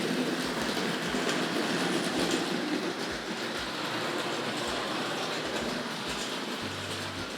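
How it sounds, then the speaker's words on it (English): Hornby Dublo model Class 31 locomotive hauling a small freight train around a layout, a continuous close rumble with regular rhythmic clicks of wheels over rail joints, with no voices. "let's see if we can get some control over the class 31 with that little freight train there"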